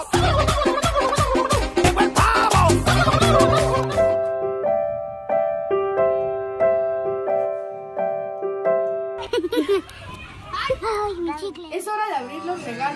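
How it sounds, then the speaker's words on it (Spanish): A turkey gobbles at a Christmas dinner in a run of rapid warbling calls, with children chattering before and after. A steady musical tone plays in the middle. "Llegó el pavo."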